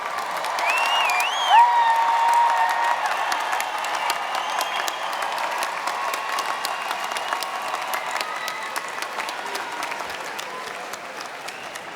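Sustained applause from a large commencement audience celebrating university bachelor's graduates, a dense steady patter of many hands that swells briefly early on and then gradually eases, with a few faint cheers mixed in.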